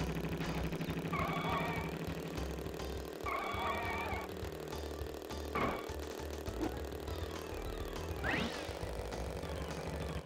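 A motorcycle engine in Crash Bandicoot 3: Warped holds a steady low droning hum throughout, with a few short warbling game effects and sweeps layered on top.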